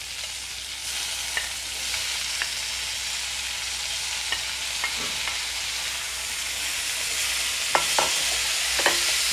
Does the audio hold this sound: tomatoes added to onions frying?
yes